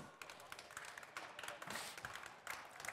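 Audience applause greeting the commentators at a Rocket League esports tournament: a crowd claps steadily at moderate loudness under someone speaking German.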